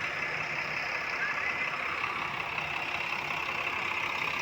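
A Scania 410 IB coach engine idles steadily at close range, a constant broadband rumble with an even, unbroken drone.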